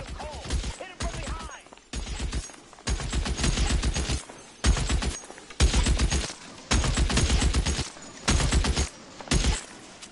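Video game gunfire from L.A. Noire rattles in rapid bursts, long fusillades of shots separated by short pauses, loud and close, repeating through the whole stretch.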